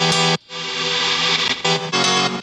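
Gritty musical sample reprocessed through an Echo Boy tweaked preset, low end removed, playing dense bursts that cut out briefly and return, loud and upfront without speech.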